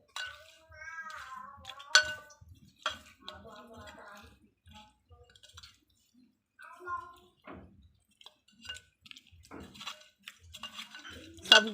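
Fish pieces mixed by hand with salt and turmeric in a bowl, soft wet squelches and occasional clinks of the bowl, heard under intermittent talking and a voice.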